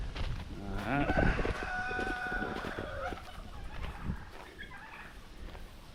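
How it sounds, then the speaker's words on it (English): Guinea fowl call outdoors on a homestead during hot weather, a busy run of harsh, repeated cries and cackles at close range, overlapping one another, with farm background noise throughout. "These guineas are sitting out here in this I mean, terrible heat."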